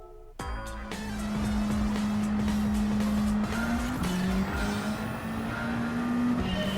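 A Suzuki Swift Group 4 rally car races in the Gran Turismo 7 video game, its engine revving hard from the start through shifts, with a sustained high whine and tire squeal, loud and close, with no talk.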